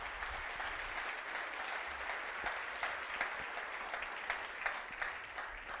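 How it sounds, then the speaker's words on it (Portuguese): A church congregation applauds at a Portuguese-language evangelical service, steady dense clapping that fills the whole stretch at an even level with scattered sharper claps on top. "Aplauda o Senhor Jesus por isso."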